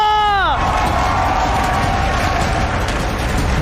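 A loud crowd cheers and claps in the MPL Arena at an MPL Indonesia esports match, Alter Ego vs Bigetron Alpha, with a tonal jingle fading in the first half-second before dense, continuous roar and clapping.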